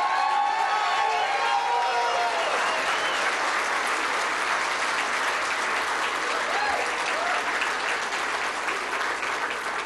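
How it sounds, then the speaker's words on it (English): An election night crowd applauds for a congressman's wife, sustained dense clapping with some cheering and voices mixed in, loud and full for the whole stretch. "Everyone give her a round of applause."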